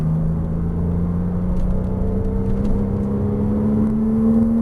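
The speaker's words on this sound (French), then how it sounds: "Et on remet les gaz vers l'extérieur." A Porsche Cayman S engine of 300 hp drones steadily at close range, its pitch rising gradually as it accelerates, with no talk over it.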